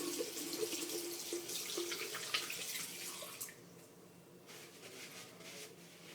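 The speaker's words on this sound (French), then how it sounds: "je vais juste me laver les mains" A tap runs into a sink while hands are washed, a close, steady splashing hiss that drops to a softer, thinner flow partway through.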